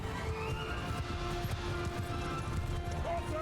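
Horses galloping across a Mount & Blade II: Bannerlord battlefield, with cavalry and horse archers on the move, a dense steady clatter of hooves mixed into constant battle noise and a low rumble throughout.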